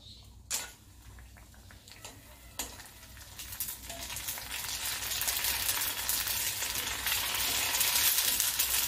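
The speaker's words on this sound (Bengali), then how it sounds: "কড়াতে তেল দিয়ে দিয়েছি। এবারে আমি কয়েকটা ফুচকাকে ভেজে" Phuchka go into hot oil in a wok with a couple of sharp splashy pops, then a dense crackling sizzle builds steadily and stays loud and continuous, close up.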